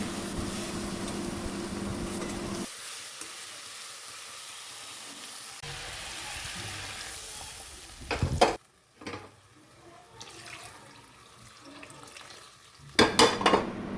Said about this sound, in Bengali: এই মশলাটাও আমি এর মধ্যে ভালো করে ফ্রাই করে নেব